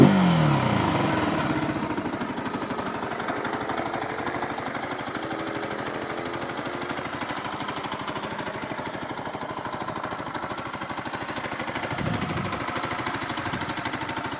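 A Zontes Hyper Trail motorcycle engine idles close by with a steady, throbbing rumble that holds even throughout, with a slight swell near the end.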